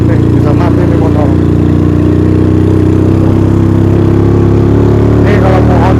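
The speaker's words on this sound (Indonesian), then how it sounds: "Aduh nggak kuat nih, bisa mati nih motor." A motorcycle engine labours up a steep uphill road at Puncrut, Lembang, near Bandung, holding a loud, steady, strained drone close by for the whole stretch.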